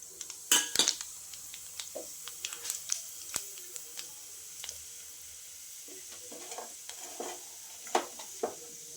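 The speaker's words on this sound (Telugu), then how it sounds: "ఆయిల్ హీట్ అయ్యాక పోపు దినుసులు వేసుకోండి" Spices sizzling faintly in hot oil, with scattered utensil clinks and scraping against the pot, no talking.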